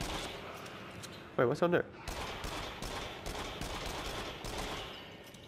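Gunfire in the VR shooter Rush of Blood comes as a short, loud cluster of rapid shots, with people talking before and after over steady game noise.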